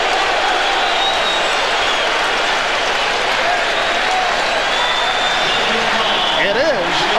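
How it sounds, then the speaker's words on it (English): A basketball arena crowd at the 1996 NBA Finals, Bulls against Sonics, roars loudly and continuously after a hard foul, mixing cheers and jeers, while a commentator talks over the din. "And the crowd wants a flagrant."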